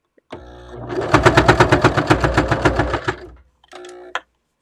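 A sewing machine stitching a fabric tube runs in a fast, steady burst for about three seconds, then a brief pause and a short final run.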